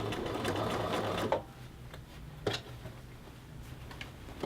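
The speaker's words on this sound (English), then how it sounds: "your shirt is going to be pushed through the sewing machine here in this armband" A sewing machine edge-stitches a men's shirt collar band, running in a fast, close whir for just over a second, then stopping, followed by a few quiet mechanical clicks and ticks.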